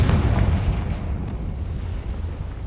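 Confringo fire-blast spell in the video game Hogwarts Legacy, a single loud booming explosion that hits at once and then rumbles and fades over a couple of seconds.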